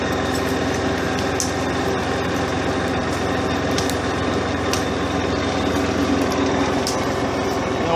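A Massey Ferguson 1433 4x4 compact tractor engine runs steadily and close by throughout, a continuous drone with no break while skidding logs.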